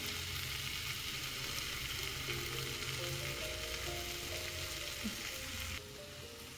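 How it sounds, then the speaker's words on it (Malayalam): Chicken and gravy frying in oil for homemade kothu parotta, a soft steady sizzle with stirring scrapes, dropping quieter near the end, no talking. "ആ ചിക്കനും കൂടെ ഇട്ട് നമ്മൾ നന്നായിട്ട് ഇളക്കി കൊടുക്കുന്നുണ്ട്"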